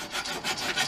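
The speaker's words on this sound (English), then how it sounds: "Oh, you're sawing it off?" A saw cuts through bolted metal in a steady back-and-forth of raspy rubbing strokes, close and fairly loud, about three strokes heard alone without any voices.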